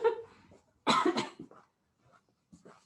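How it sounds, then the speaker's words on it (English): A person coughing a few times, a strong close cough followed by weaker throat clearing and softer trailing coughs with quiet gaps between. "Try to get my coughing out of the way now."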